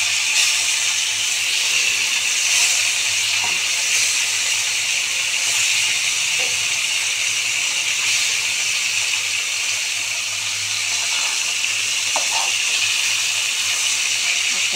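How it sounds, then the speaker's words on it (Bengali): Bhola fish frying in hot oil for a spicy fish curry, a steady loud hiss and sizzle running unbroken throughout with faint occasional pops. "খুব সুন্দর ভাজা হয়ে গেছে।"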